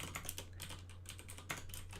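Rapid, steady typing on a computer keyboard while entering Cisco router configuration commands; close, crisp key clicks with no speech.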